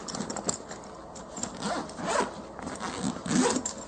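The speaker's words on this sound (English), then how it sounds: "Opening that up exposes the main compartment of the bag." The zipper on the main compartment of a tan 18-inch Explorer Tactical range bag is pulled open in several quick, close, scratchy runs, loud and clear with no voices.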